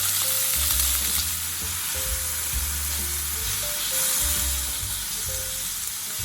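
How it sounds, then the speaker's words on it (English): Thinly sliced beef sizzles steadily in a hot, oiled pan over medium heat for a sukiyaki rice bowl, a dense and even crackle with occasional stirring knocks and no talk over it. "Heat the pan thoroughly. 130g of thinly sliced beef."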